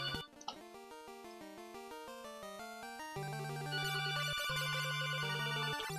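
A telephone ringtone plays as a loud electronic melody of stepping tones, shifting into a denser, brighter repeating ring partway through, with no talking.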